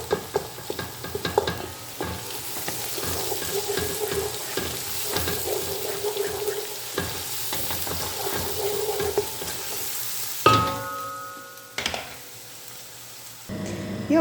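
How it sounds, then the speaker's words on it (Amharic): Onion and ginger fry in a pan with a steady, close sizzle and crackle, broken by a few clattering stirs and a brief sharper burst near the end; no one speaks. "ሽንኩርቱ ትንሽ ጠበስ ካለ በኋላ ይሄ አብሬ ጠብሰዋለሁ ማለት ነው።"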